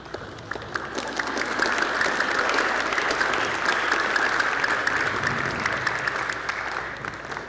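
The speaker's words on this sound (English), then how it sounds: "And you can applaud." Concert audience applauding steadily at a performance of Mozart's Requiem by a chorale and youth symphony orchestra, a dense, even wash of many hands clapping throughout with no voices.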